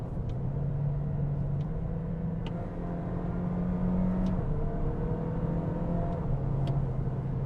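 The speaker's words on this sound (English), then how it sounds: "You can hear the changing of the pitch of the engine." A Toyota Corolla Hatchback SE engine hums steadily while driving, its pitch stepping up and dropping at distinct moments as gears change with paddle shifts, with faint clicks now and then.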